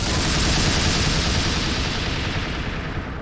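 A loud, sustained blast with rumbling debris fills the scene in the video game Viscera Cleanup Detail, a dense roar that holds steady and slowly tapers at the end.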